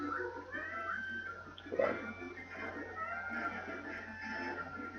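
A pet cat meows near a microphone during a video game stream, with a brief louder cry around the middle over steady background noise and no speech.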